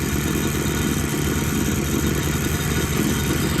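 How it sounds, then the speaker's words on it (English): A two-stroke lawnmower engine runs steadily at close range, a loud, even buzzing drone with no break and no voices. "I'll get the lawnmower going in a minute, make sure that's all working as well."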